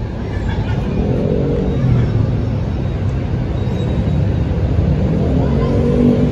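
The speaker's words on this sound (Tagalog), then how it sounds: "Yan, traffic na rin pala doon" Road traffic near Quezon Bridge in Manila: a dense, steady rumble of engines and tyres close by, with no distinct passes standing out, continuous for several seconds.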